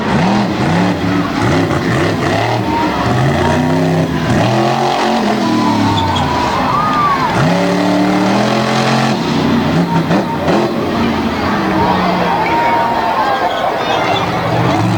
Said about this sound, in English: she's doing some nice speed passes up here in front of the grandstands.